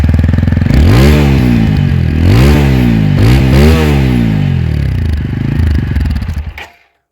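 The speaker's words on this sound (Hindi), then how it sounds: "तो आपने इसका एग्जॉस्ट नोट सुना होगा" A TVS Apache RTR 160 4V motorcycle's exhaust, recorded up close and loud, revs three times in quick succession with rising and falling sweeps, then idles roughly before cutting off.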